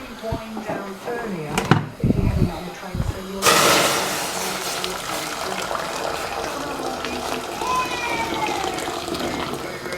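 Water from a kitchen tap gushes steadily into a sink, a continuous close splashing rush that begins abruptly after some brief clatter and speech.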